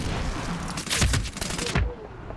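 Gunfire in the video game Medal of Honor: Warfighter during a multiplayer match: a rapid burst of loud shots and a dense fusillade across about two seconds, then a sharp drop to quieter background.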